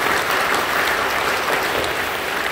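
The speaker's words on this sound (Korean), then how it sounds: "박수로 격려해 주시고 고맙습니다." Congregation applauding inside a church during a worship service, steady dense clapping filling the room throughout with no talk over it.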